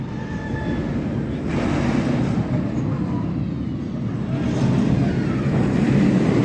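A roller coaster train on The Wave ride at Drayton Manor rumbles steadily along its track, a continuous loud roar with rattling, swelling slightly in waves.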